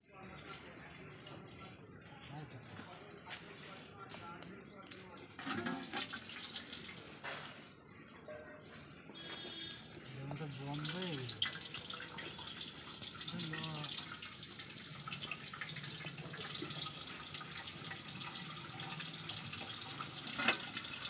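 A water tap under repair runs and splashes with intermittent clanks and handling noises, while people talk nearby throughout.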